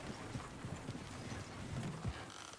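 Horse hooves clip-clop in a video game, a steady run of soft, close thuds with a faint mechanical clatter underneath and no talking.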